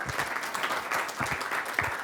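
Conference audience applauding at a partner event, steady dense clapping from a crowd filling the room for the full stretch, moderately loud with no talk over it.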